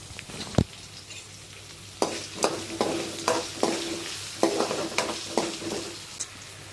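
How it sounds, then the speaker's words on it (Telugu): Curry leaves and onions sizzle in tempering oil for upma, stirred with a series of distinct scraping strokes over a steady frying hiss, close and fairly quiet. "కరివేపాకు, ఆనియన్స్ వేసుకొని కలుపుకోవాలి."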